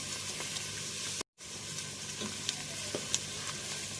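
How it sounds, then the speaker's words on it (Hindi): Chicken karahi pieces fry in a pan with a steady, close sizzle and crackle that drops out for a moment, then resumes with a few sharp pops. "ये देखें, ये इस तरह फ्राई करना है।"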